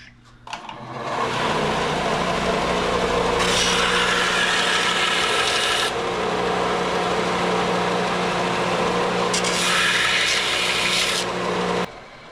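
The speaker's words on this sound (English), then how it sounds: "If you got sandpaper, set it on the plank of wood or something" Sandpaper rubs steadily on a plank of wood, a loud, continuous gritty scraping close by that runs for several seconds with slight shifts in pressure.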